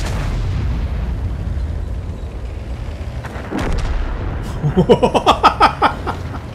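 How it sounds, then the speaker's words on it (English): A self-propelled gun blows up in a tank battle game: a low rumbling boom builds mid-clip, followed by a loud run of rapid crackling bursts from the burning wreck. "a self-park gun explodes"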